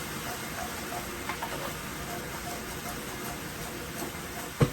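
A pan of Cajun honey butter sauce sizzles steadily as lemon juice is stirred in, making a continuous close hiss with a small clink near the end.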